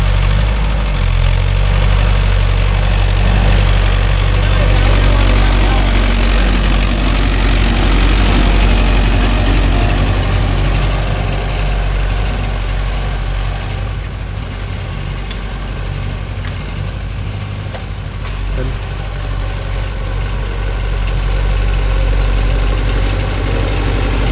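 A Mahindra Yuvo Tech Plus 585 4WD shuttle-gear tractor engine running loud and close, a continuous deep diesel rumble and drone that holds steady for the whole stretch with no voices over it.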